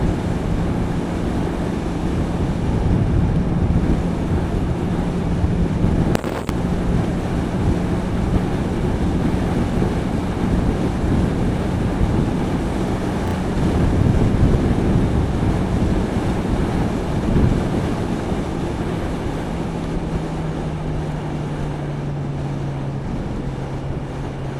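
Steady roaring wind rush over a rider's helmet on a 2024 Honda CBR650R sport bike with E-Clutch, continuous and loud with a low engine drone beneath, unbroken for the whole stretch.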